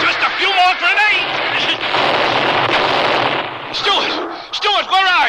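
Radio-drama grenade explosions boom and rumble in a long, dense barrage, loud and close, with frantic shouting voices before and after the blasts.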